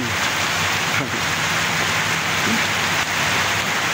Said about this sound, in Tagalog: Lakas talagang ulan.